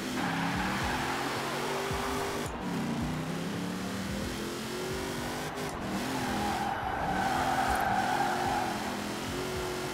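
A Mercedes X-Class pickup driven in Forza Horizon 4 revs and slides, its engine drone rising and falling through shifts while tires squeal during drifts, loud and continuous.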